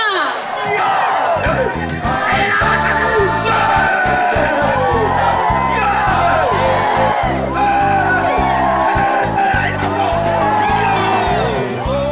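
A large crowd at the Ya'ahowu Nias Festival roars with continuous whoops and shouts over pounding festival music, loud and sustained throughout with no break.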